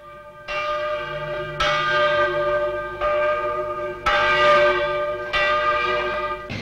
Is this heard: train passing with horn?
no